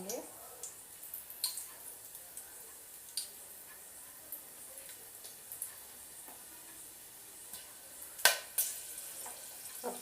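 Whole spices crackle and sizzle in hot oil for methi pulao, a faint steady fry broken by scattered sharp pops and clicks, with a louder burst near the end.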